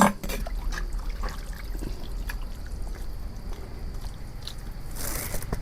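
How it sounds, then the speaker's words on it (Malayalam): Water poured into a cooking pot, with close trickling and dripping over a low rumble and a brighter splash near the end, no voices. "പാത്രത്തിൽ വെള്ളം ഒഴിച്ചു"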